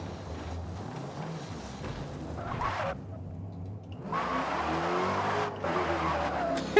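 A muscle car in the Forza Motorsport racing game, its tires squealing and skidding over a steady engine roar, loud and close, with a brief drop-off midway before the screech returns.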